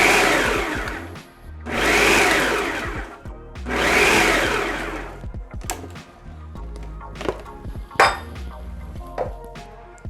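A food processor chopping nuts for baklava filling runs in three loud whirring pulses of about a second or two each, followed by clinks and knocks of the bowl and lid.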